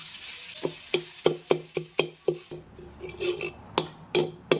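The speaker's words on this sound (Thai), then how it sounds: "แล้วเราก็นำพริกแกงเผ็ดของเรานะครับ มาคั่วครับ คั่วให้เขาหอมนะครับ" A spatula scrapes and taps rhythmically against a pan as red curry paste is dry-fried over a soft sizzle, close by, each stroke sharp and evenly spaced.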